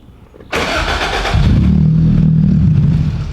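A Toyota MR2 engine cranks briefly, then catches and settles into a loud, steady idle rumble close by.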